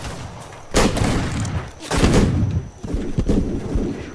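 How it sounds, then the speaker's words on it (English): Bursts of gunfire in a Wild West video game come as three loud, rough volleys about a second apart, each a dense cluster of cracks and thuds. "Hey, he's shooting us."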